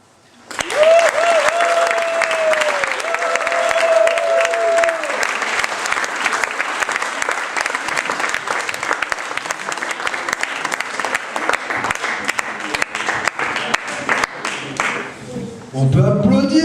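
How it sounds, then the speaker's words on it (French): A live audience at a slam poetry tournament bursts into sustained, loud applause that holds steady for many seconds, while a host's voice speaks over the start and near the end. "On peut applaudir la poésie de Sylvain"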